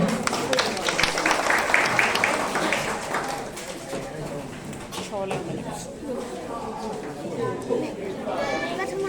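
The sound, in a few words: applause for second prize winner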